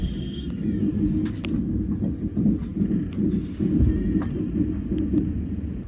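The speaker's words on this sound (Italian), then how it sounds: "Partito, oh, è partito." A sleeper train heard from inside a cabin as it pulls away, with a steady low rumble along the tracks and faint scattered clicks and knocks over it.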